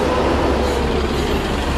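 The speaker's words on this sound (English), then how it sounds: "Too noisy here with all the traffic." Road traffic rumbles steadily beside the Old City walls of Jerusalem, a dense continuous roar of passing vehicles with a low engine drone and no clear gaps.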